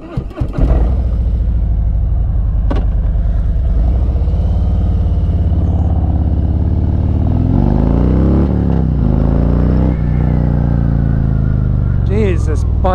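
A Harley-Davidson Road King motorcycle pulls hard in second gear, its loud, close engine rumble rising steadily in pitch through the acceleration, then dropping back with some wind buffeting near the end.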